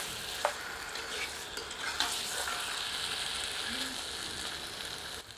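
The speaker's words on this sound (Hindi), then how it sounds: "इसे मिलाकर 3 से 4 मिनट तीव्र आंच पर भूनते हैं और निरंतर करछी चलाते रहते" Goat mutton fries with masala over high heat for Odia-style mutton aloo jhol, a steady sizzle marked by repeated ladle scrapes and clinks as it is stirred.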